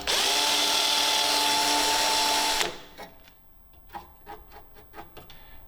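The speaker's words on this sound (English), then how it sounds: "And we're gonna need a sharper drill." A drill bores a center hole in the front of an R34 Skyline, a loud steady whining grind for over two seconds, then stopping into scattered metallic taps and clicks.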